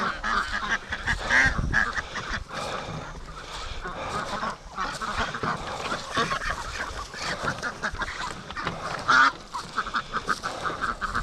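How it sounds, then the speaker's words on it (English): A flock of free-range ducks quacks loudly and continuously close by, with overlapping calls and occasional honking blasts forming a busy, raucous chorus. "Hello, ducks."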